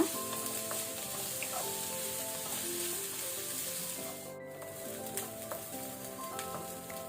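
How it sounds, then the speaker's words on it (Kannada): Onions fry in a pan with a continuous, close sizzle and crackle, broken by occasional stirring clinks and scrapes, with no talking. "ಈರುಳ್ಳಿ ಪಿಂಕ್ ಆದರೆ ಸಾಕು, ಜಾಸ್ತಿ ಏನು ಫ್ರೈ ಆಗಬೇಕಂತಿಲ್ಲ."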